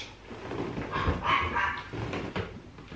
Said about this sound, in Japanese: マロンはワンワン言ってます